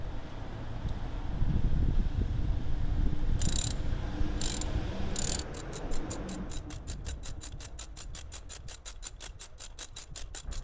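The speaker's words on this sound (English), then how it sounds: "so now with our thin-walled socket as well as our extender, we're going to get inside and take out the spark plug." A ratchet turning a thin-walled socket on an extension to loosen a spark plug in a BMW 335 with the N54 engine, heard as a few separate clicks and then a long, steady run of quick clicks over a low background hiss.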